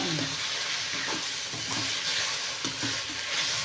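Okra sizzling steadily in a hot pan while being stir-fried, a dense continuous frying hiss with occasional soft scrapes and knocks of the stirring utensil, close up and without talk.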